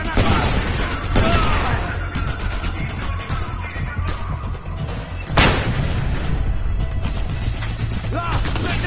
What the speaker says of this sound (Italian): Usiamo le granate!